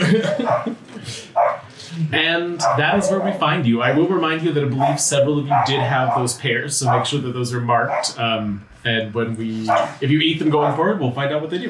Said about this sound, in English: I don't know if all of you can hear the mad barking that is happening outside